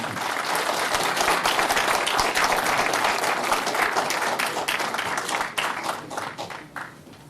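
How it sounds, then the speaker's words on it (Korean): An audience at a lecture on Yuan and Ming blue-and-white porcelain welcomes the lecturer with sustained, dense applause from many hands. It holds steady, then thins out toward the end. "여러분 큰 박수로서 맞이해 주시기 바랍니다"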